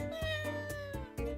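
A black cat meows in the video game Dandelion: Wishes Brought to You. Several clear, drawn-out meows follow one another closely, loud and near, over steady tonal game music.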